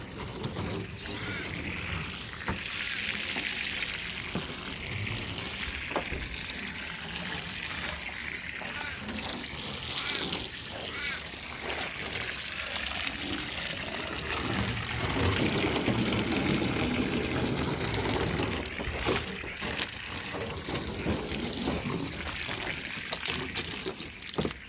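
Water sprayed steadily over a car's paint after a quick-coat protectant is applied, a continuous close hiss and gush with shifting intensity, occasional spoken words under it.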